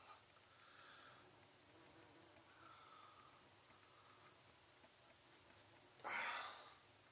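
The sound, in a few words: bee buzzing in the room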